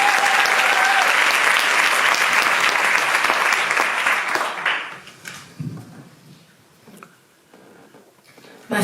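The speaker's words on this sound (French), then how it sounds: "On peut l'applaudir." A theatre audience applauds loudly and steadily for about four and a half seconds, then the clapping fades to quiet murmurs and faint stray sounds.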